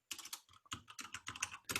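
Rapid, continuous typing on a computer keyboard while writing JavaScript code, with dense bursts of close, crisp keystrokes and brief pauses between them, heard alone without any voice.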